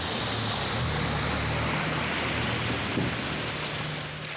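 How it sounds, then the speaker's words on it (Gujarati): Heavy torrential rain falls in Lakhani, Banaskantha, Gujarat, a dense, loud, unbroken roar of downpour with a low rumble beneath and no talk. "લાખણી સહિતના અનેક પંથકમાં ધોધમાર વરસાદને લઈને માર્ગો પરથી નદીઓ વહેતી થઈ હોય તેવા દ્રશ્યો સર્જાયા હતા"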